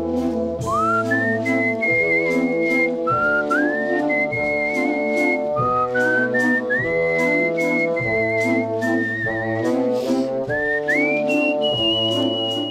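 A person whistles a melodic tune in the art-whistling style, with clear held notes and upward slides into phrases over a steady instrumental accompaniment, without speech.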